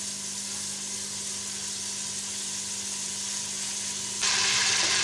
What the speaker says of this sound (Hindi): घी गर्म हुआ तो इसमें थोड़ा सा जीरा डाल देंगे